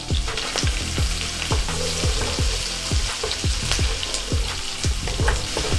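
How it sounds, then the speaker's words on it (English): Three diced jalapenos and three garlic cloves saute in four tablespoons of butter, a loud, continuous sizzle with regular stirring strokes scraping the pan, close and without speech. "We're just gonna saute this a little bit until the garlic has a chance to cook a little"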